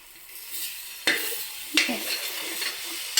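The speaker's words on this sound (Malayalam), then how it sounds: "ഇനി നല്ലപോലെ നമുക്ക് ഇളക്കി കൊടുക്കാം" Beaten eggs with masala stirred in a hot pan: a soft sizzle under three or four sharp spoon scrapes and knocks against the metal over a few seconds, no voices.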